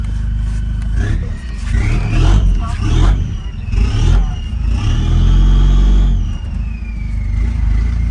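A Nissan Navara NP300 pickup engine revs loudly and close up while turning around, with the pitch rising and falling over a rumbling idle and people talking throughout.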